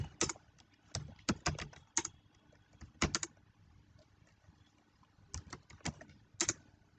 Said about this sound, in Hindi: रूट का पासवर्ड डाल दीजिए यहाँ पे।